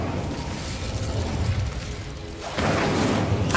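An Incendio fire spell cast in Hogwarts Legacy gives a dense, roaring burst of flame that swells louder near the end over steady game noise.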